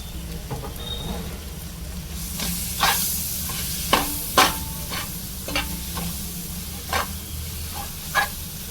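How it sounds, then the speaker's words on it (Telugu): Spicy goat tripe boti sizzles and crackles in a hot pan with garam masala, a steady frying hiss broken by repeated scraping stirs, close and fairly loud with no talking. "ఇంకోసేపు ఫ్రై చేసుకుందాం"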